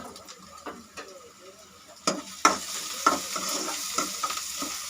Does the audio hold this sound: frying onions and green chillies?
yes